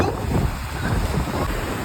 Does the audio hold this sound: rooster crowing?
no